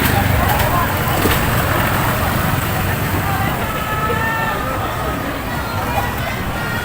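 Lively nighttime street crowd on Soi 7 in Jomtien on Christmas Eve, a constant wash of chatter and babble mixed with passing motorbike and traffic noise, fairly loud and close all around.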